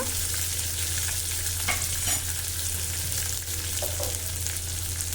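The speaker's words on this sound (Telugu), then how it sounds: "ఇదిగోండి ఈ విధంగా అయితే వేయించండి కలర్ చేంజ్ అయ్యే వరకు కూడా వేయించుకోండి" Taro root fries in a pan with a steady, loud sizzle, broken by a few scrapes of stirring; a low hum runs underneath.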